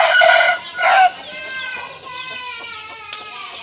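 A rooster crows loudly and close by, a long drawn-out call that fades into quieter clucking.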